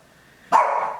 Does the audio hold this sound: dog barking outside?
yes